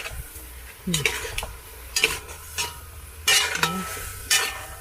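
Chicken sautés in a pan with a soft background sizzle, broken by several loud scraping stirs of a utensil against the pan at close range.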